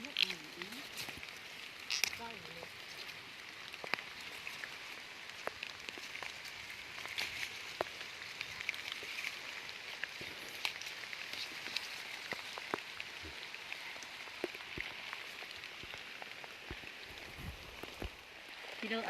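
Rain falling in a forest, a steady faint patter of drops on leaves and surfaces with scattered sharper drips, continuous throughout, with a voice speaking intermittently over it.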